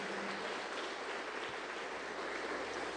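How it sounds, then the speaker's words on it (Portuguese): Church congregation giving a round of applause for Jesus during a family worship meeting, a steady, even wash of clapping that stays faint and distant throughout. "Dê uma forte salva de palmas para o Senhor Jesus"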